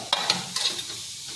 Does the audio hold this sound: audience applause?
no